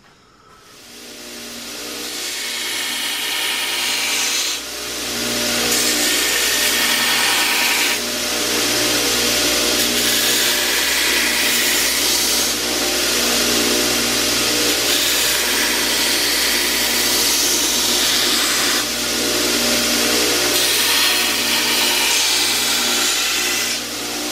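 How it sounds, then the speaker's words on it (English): A power sander whirs continuously against a wooden edge, rounding it off, for a long stretch, loud and close, with steady grinding friction and slight changes in pressure. "now I'm going to take the sander and start going around the edge of this"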